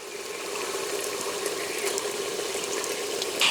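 Water is poured steadily into a chicken and jackfruit curry in a clay pot, a continuous close splashing gush with no talk.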